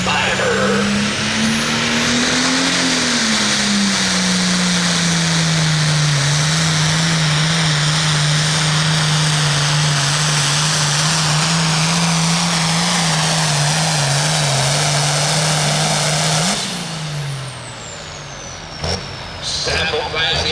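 A pulling tractor roars at the Guernsey County Fair tractor pull in Old Washington, Ohio, its engine droning loud and steady, pitch swelling then settling for a long sustained pull before cutting off abruptly near the end.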